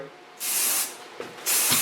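Two bursts of Lanza volume hair spray hiss close by onto hair roots, with a short pause between them and a faint click just before the second burst.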